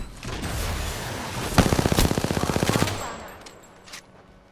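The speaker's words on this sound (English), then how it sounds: "Bad boys are shooting at me." Video game gunfire in a shooter, with a rapid automatic burst of about a dozen evenly spaced shots after a single louder crack, over background game noise and a faint voice.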